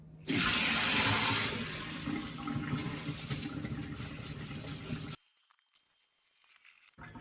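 Water gushes out of a container of soaked rice being drained for makgeolli, loud and splashy at first, then a steadier pour that stops suddenly, leaving near silence.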